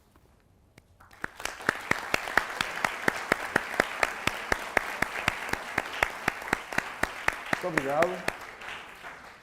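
Audience members at a university Heart Day debate break into applause after a brief quiet start. The individual claps ring out sharp and evenly spaced for several seconds, and a short spoken thanks comes near the end.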